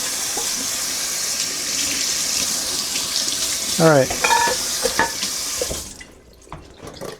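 Coffee gear is rinsed under a running tap, with steady water splashing into a sink for about six seconds before it is shut off, and a brief spoken word partway through.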